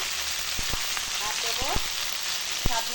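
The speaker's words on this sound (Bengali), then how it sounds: "কড়াতে সর্ষের তেল দিয়েছি আর তেজপাতা ফোড়নে দিয়ে দিলাম" Bay leaf sizzling in hot mustard oil in a wok, a steady soft hiss with a few sharp spoon clinks and scrapes against the metal, close and fairly quiet.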